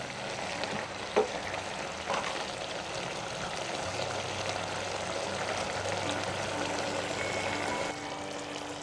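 Luffa curry sizzles steadily in a pan and is stirred, with a couple of sharp spoon knocks early on and a soft hum running beneath the continuous frying.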